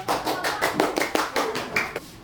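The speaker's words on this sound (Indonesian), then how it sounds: "Beri tepuk tangan untuk nomor 3." A small group clapping in a classroom during a teaching practice session, about ten distinct, fairly loose claps in an uneven rhythm, close and moderately loud.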